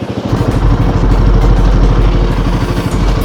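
Motorcycle riding on a slippery off-road mountain trail on the Sach Pass to Killar route, its engine loud and close with a steady chugging, clattering rumble throughout.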